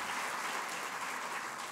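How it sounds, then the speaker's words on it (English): Brief burst of steady audience applause, many hands clapping in a dense, even wash from a room full of people. "perhaps we could give him a round of applause for having that foresight"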